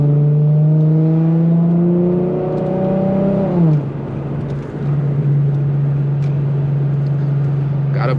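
An Infiniti G37 in manual mode pulls hard, its engine note climbing steadily through a gear, dropping sharply at a shift, then settling into a steady drone close up.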